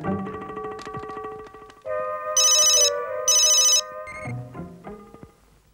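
Telephone ringing loudly and close, a synthetic electronic ring with bright repeating bursts that starts after a musical passage and stops abruptly before the call is answered.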